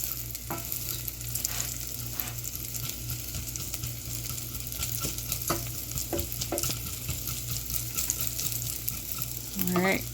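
Dry leftover rice is stirred in a hot frying pan, giving a steady close sizzle broken by repeated scraping strokes of the utensil and a brief faint voice.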